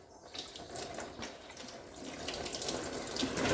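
Coolant drains from the radiator of a 2001 Polaris Sportsman 400 ATV in a steady pouring trickle that grows gradually louder, with no speech.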